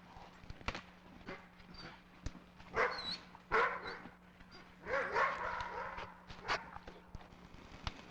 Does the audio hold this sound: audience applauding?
no